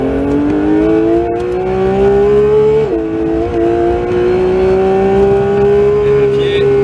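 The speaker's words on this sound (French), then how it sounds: "Et là tu débraques dessus en accélérant." A Porsche 911 GT3 of the 992 generation accelerates on the Castellet circuit, its engine note climbing steadily in a loud, close, in-car wail through a brief gear change.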